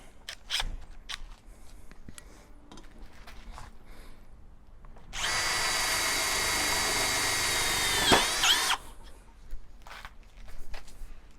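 A Metabo BS 18 L BL Quick compact cordless drill on second speed drives a self-drilling screw into metal. Quiet handling noises lead into a steady high whine lasting about three seconds, which dips and bends as the screw seats, then cuts off.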